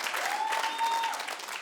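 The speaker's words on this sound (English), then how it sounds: "Clap if you're 50 and up." Audience applause at a comedy show, a steady wash of many hands clapping through the full stretch at moderate loudness, with a few faint voices mixed in.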